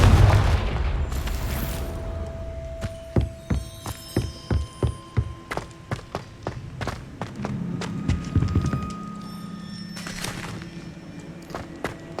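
Confringo fire spell blasts in Hogwarts Legacy: a deep booming burst at the start, then a rapid string of sharp popping impacts and crackling hits, loud and close, with no talk.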